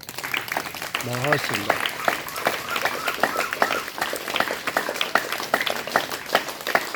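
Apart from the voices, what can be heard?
audience applause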